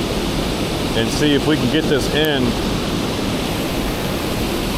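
Raging water pours through a spillway in a loud, steady broadband roar, with someone speaking briefly over it midway through.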